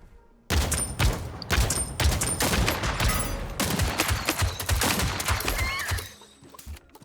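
Gold crossbow firing in the Realm Royale Reforged battle royale game: a rapid, dense volley of sharp shots lasting several seconds, loud and close, then stopping abruptly.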